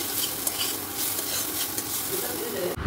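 Food fries in a pan at home, making a soft, continuous sizzle and crackle with light stirring, ending in a brief clatter.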